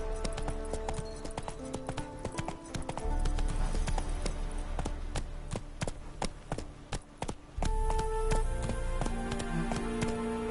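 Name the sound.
horse Roach galloping, hoofbeats in video game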